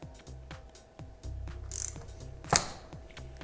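A ratchet wrench clicks steadily at close range as a bolt is tightened on a Ducati XDiavel motorcycle being rebuilt after a crash, with a sharp metallic clack near the end.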